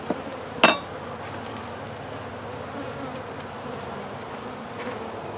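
Honeybees buzz steadily around a hive being inspected for queen cells, a continuous close hum with a sharp click or knock near the start.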